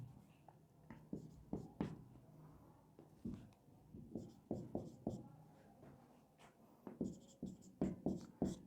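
Writing a formula on a board during a Hindi grammar lesson on vowel sandhi: close, scratchy strokes and sharp taps arrive in irregular bursts, with short pauses between clusters and no talking over them.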